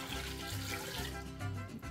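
Water pours steadily into a pressure cooker holding beef tongue and bay leaves, a continuous close filling rush that runs without pause.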